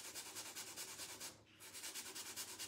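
Sandpaper rubs the edges of decoupage paper on a wooden drawer in quick, regular back-and-forth strokes, quiet and close, with a brief pause midway before the rhythm resumes.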